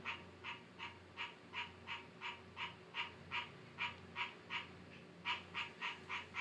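A steady chorus of frogs chirping at dusk, a regular pulsing series of about twenty calls repeating roughly every third of a second, moderately loud and distant, with no voices.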